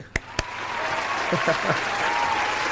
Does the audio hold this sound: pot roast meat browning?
no